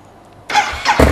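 A motorcycle engine starting with the stock exhaust fitted, heard as a quiet lull followed by a sudden starter crank and the engine catching into a louder, rough burst, close and alone.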